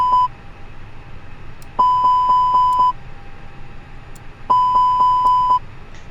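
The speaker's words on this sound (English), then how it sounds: "Test the fire alarm." A cockpit fire alarm test in a flight simulator airliner gives repeated bursts of sharp electronic beeps, three short clusters of rapid evenly spaced tones over a low steady hum.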